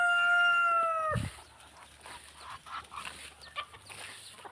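A rooster's crow rings out at the start, followed by soft, scattered clucking from hens and chicks on a farm, fairly quiet and close with outdoor ambience.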